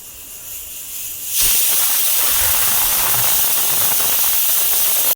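A pressure cooker cooking mutton lets out a loud, steady hiss of steam that jumps up sharply after a quieter start and then holds at full force until the end.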